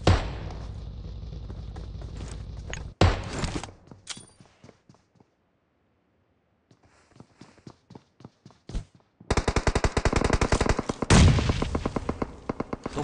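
Gunfire erupts in a battle royale video game. Close, loud bursts of rapid shots come in clusters, separated by a near-silent pause and scattered single cracks, and end in a dense barrage.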